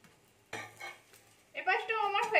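Radish and yogurt snack pieces clatter and scrape against a pan as they are turned, then a steady sizzle of frying rises and holds, close and fairly loud.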